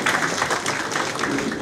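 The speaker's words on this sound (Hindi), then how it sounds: "जोरदार तालियों के साथ स्वागत" Dense, continuous applause from a crowd at a Chief Minister's official transport MOU event, loud and close, steady clapping without pause.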